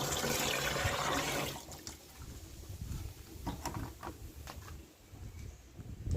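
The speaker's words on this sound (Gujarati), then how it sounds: "અને આપણે હવે આમાં હજી વીસેક લીટર જેવું પાણી ઉમેરી દઈએ" Water pours into a fermenting bio-enzyme mixture of grapes, grape juice and jaggery, a loud steady gush for the first second and a half that drops to softer splashing and trickling with scattered drips.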